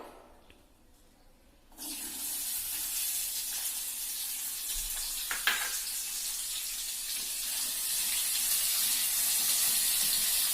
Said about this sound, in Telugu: ఇప్పుడు ఈ కొబ్బరి కూడా మనం ఫ్రై చేసుకోవాలి ఆయిల్లో